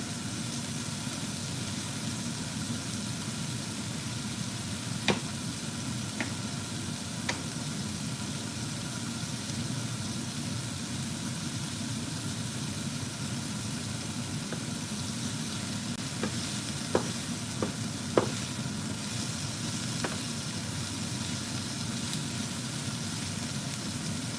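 Onions frying in a single layer in a pan give a steady, even sizzle that runs throughout, with a few faint clicks and taps of a utensil now and then and no voices.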